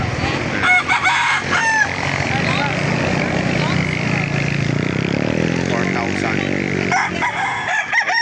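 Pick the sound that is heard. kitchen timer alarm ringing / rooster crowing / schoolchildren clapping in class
rooster crowing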